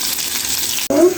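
Fish frying in mustard oil in a pan, a close, steady hiss of sizzling that cuts out briefly and then returns with a short clatter as the fish is lifted out.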